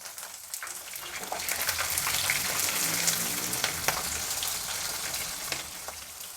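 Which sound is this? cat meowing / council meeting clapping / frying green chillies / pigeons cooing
frying green chillies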